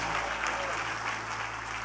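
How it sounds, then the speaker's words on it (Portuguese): A church congregation claps in praise during a service, a thick, continuous wash of applause over a low steady hum, with faint voices mixed in. "E os que podem, tomem seu assento aplaudindo a Jesus"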